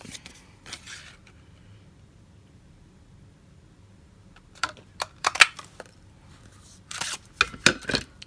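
Scissors snip through a stamped paper piece in short crisp bursts, a couple near the start and a cluster of quick cuts toward the end, close and fairly quiet with silence between.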